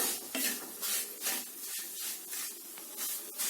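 Dry semolina grains scrape and rustle in a pan as they are roasted over medium heat and stirred, with a soft, steady sizzle and occasional light clinks of the spoon.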